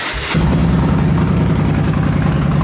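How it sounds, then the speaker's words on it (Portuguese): Honda Today 371cc motorcycle engine firing up after a brief rustle, then settling into a loud, rough, close idle with a steady low chugging rumble. "Vou dar uma ligada aqui pra vocês ouvirem o ronco"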